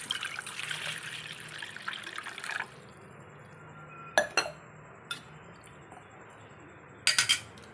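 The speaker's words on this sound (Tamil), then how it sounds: "நான் இப்போது இந்த செம்பில் தான் ஒரு செம்பு தண்ணி எடுத்துக்கிறேன்" Water trickles and pours into a copper vessel for a herbal decoction, a steady splashing for the first few seconds, then a few sharp metallic clinks and drips close by in a quiet kitchen.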